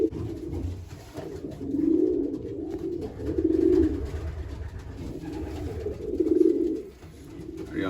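Racing pigeons cooing in nest boxes, a near, continuous low rolling coo that swells in several repeated phrases over a steady murmur of more birds.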